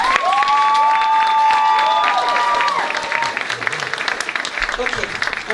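A church congregation claps in a sustained burst of applause, dense and lively, with voices and a singing or shouting tone rising over it early on before the clapping continues a little less intensely.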